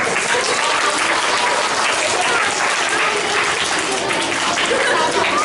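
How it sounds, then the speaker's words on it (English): An audience at a junior school reading competition gives a dense, sustained round of applause for the winners, continuous and loud throughout, with a faint murmur of voices underneath. "for all the winners, a big round of applause"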